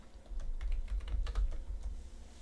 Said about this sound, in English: Let's use the third keyboard over here